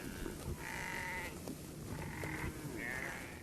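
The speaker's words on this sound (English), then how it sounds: "Farmers are now reintroducing the red Maasai sheep and crossbreeding them with other sheep." Red Maasai sheep bleat three times in short, wavering calls spaced about a second apart, fairly quiet over a steady background.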